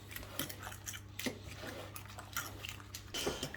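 A spoon clinks and scrapes in a bowl while quiche filling with ketchup and spinach is mixed for a potato quiche, a series of light irregular taps and scrapes close by with a steady low hum beneath.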